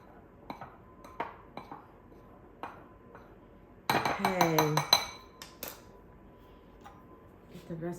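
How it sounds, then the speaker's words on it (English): A spoon stirs salt into a bowl while making s'more cookies, giving scattered light clinks and taps, with a brief, louder burst of ringing, scraping contact midway. "Just gonna stir that up a little bit."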